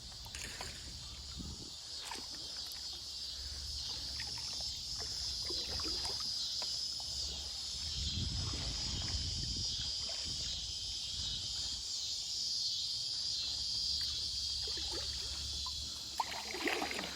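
Cicadas drone loudly along the Clinch River, a steady high, shrill buzz that holds for the whole stretch, with soft water and paddle splashes from a kayak underneath.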